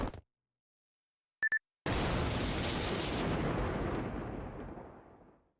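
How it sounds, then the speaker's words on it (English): A short electronic double beep, then a sudden loud boom in the game Fate/Grand Order that rolls into a long rumbling blast and slowly fades out. "An explosion?"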